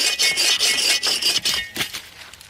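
A hand saw works back and forth through a dry, dead tree stump outdoors, a quick rasping stroke rhythm, close and steady, with no talking.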